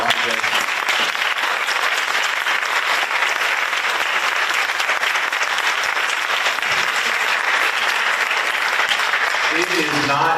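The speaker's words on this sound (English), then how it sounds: "I want to hear maybe one more round of applause." Sustained applause from an audience at a Raleigh mayoral candidate forum fills the room, steady and dense from start to finish with no break.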